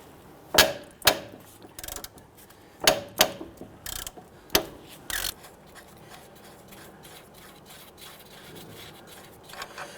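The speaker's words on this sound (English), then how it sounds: "So I'm going to use my socket on this side here and my box and wrench on the other side" Socket ratchet loosening a 17mm nut on the front clevis fork of an Infiniti G37, several short bursts of close metallic clicking spaced over the first five seconds, then quiet.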